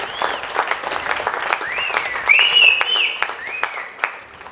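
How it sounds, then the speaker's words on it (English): Spectators at a polo club match applaud the tournament winners, scattered steady clapping from an outdoor crowd under whistling calls and chatter, moderately loud with brief swells. "another round of applause for our winners of the USPA Regional President's Cup."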